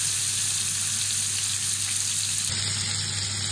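Spicy prawns fry in a pan with a loud, dense, continuous sizzle and crackle, close up and steady with no talk.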